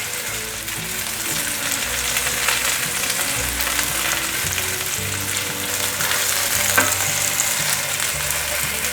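Vegan toast snack topped with black pepper frying slowly in oil over medium-low heat, giving a continuous loud sizzle and crackle close at hand, with occasional soft scraping and no voices, lasting throughout.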